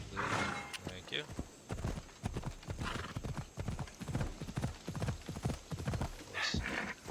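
Horse hooves in the video game Assassin's Creed Odyssey: a run of close, evenly paced clip-clop steps on hard ground with a brief whinny mixed in.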